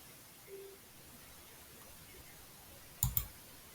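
Computer mouse clicks while stepping through a Node.js installer on a quiet desk, a single faint click early on and then a sharp double click near the end over low background hiss.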